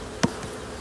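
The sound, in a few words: honey bees buzzing from recovered swarm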